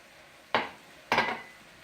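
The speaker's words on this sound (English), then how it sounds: "So we're going to add our rice to that." Rice is tipped into a pan with oil in two quick pours, each a sharp rattling hiss that fades over about half a second.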